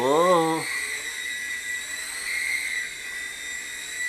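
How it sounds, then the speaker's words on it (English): A Hisky HFP80 V2 RC helicopter with 6-axis stabilization hovers close by, its rotor and motor giving a steady, high-pitched whine that rises and falls a little with throttle, after a short tonal chirp at the start. "able to fly a helicopter like this in an area this small is a pretty impressive feat"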